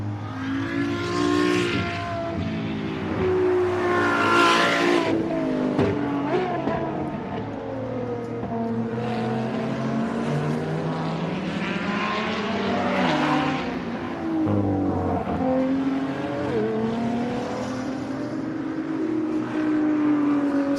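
A Ferrari hybrid street car with F1-derived engine technology at a speed festival sweeps through loud rising and falling revs, several pitch glides passing close over about twenty seconds.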